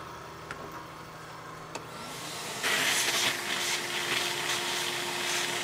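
A milling machine takes a quarter-inch-deep cut on a part for a laser seam welder fixture, a steady broadband cutting hiss starting partway through over a low motor hum, with no talking.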